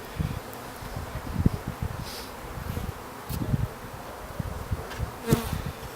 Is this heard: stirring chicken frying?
no